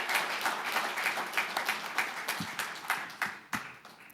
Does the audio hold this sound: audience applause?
yes